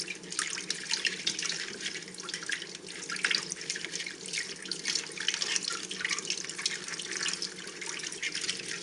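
Water running from a tap to fill a large container for Vietnamese loquat tea, a close, steady splashing flow with small fluctuations that continues throughout without speech.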